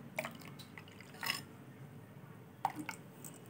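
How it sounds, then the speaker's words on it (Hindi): Water drips and splashes as half a cup is poured into thick ground rice batter, a few soft liquid plops over a low, steady background hiss. "1/2 कप पानी हमने इसमें डाल दिया है"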